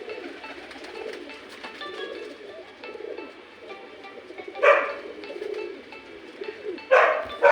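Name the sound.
pigeon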